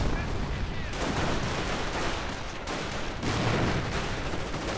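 Intense gunfire from assault rifles and other weapons in a war video game battle, with German Panzer Grenadiers advancing, rattles loudly and almost continuously, with denser bursts swelling throughout.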